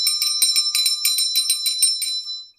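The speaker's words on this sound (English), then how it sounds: "I'm going to ring a bell to cleanse the energy." A small bell rung repeatedly in a steady rhythm, bright clear strikes ringing close and alone, used to cleanse energy during a tarot reading.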